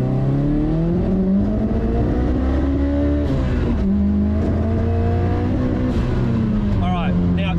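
A 1000 hp Nissan Skyline R33 GT-R pulls hard through the gears, pitch climbing and dropping at each shift, loud and close, with voices talking faintly underneath.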